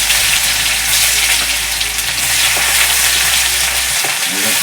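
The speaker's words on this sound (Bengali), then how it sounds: "রসুনগুলো দিয়ে দিচ্ছি" Garlic hits hot oil already holding sugar and bay leaves, and a loud, close, steady sizzling hiss fills the whole moment, with no talking.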